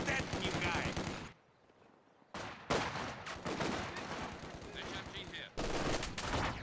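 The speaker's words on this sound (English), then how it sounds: "MG opening up" Machine gun fire in Company of Heroes 2: loud sustained bursts of rapid automatic shots, broken by a short quiet gap and then resuming with more bursts, a voice talking over parts of it.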